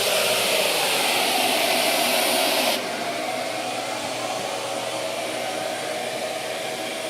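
A Shaper Origin handheld CNC router with a 6 mm long-reach bit and spindle speed set to 5 cuts steadily, a loud continuous whine and rush that drops to a lower, quieter hum partway through.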